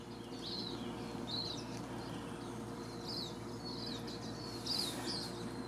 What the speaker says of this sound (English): So they're lovely little birds, we like feeding them.